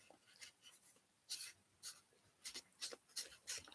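Paper being folded by hand for an origami car, soft close creasing and rubbing strokes in short irregular bursts, faint and intimate with no talk.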